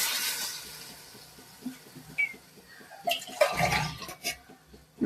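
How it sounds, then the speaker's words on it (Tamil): Coconut milk is poured into a pot of rice for vegetable pulao, starting as a faint trickle and growing into a louder, splashing gush of liquid near the end. "ஒரு தேங்காய் பால் 1 கிளாஸ் ஊத்திடுறேன்."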